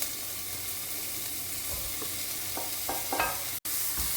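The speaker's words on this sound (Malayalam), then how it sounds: "ഇതിൻ്റെ കൂടെ തന്നെ നമുക്ക് ക്യാപ്സിക്കവും ചേർത്ത് കൊടുക്കാം." Capsicum stir-fried with chicken noodles in a pan over a high flame, a steady close sizzle with a few quick stirring scrapes toward the end.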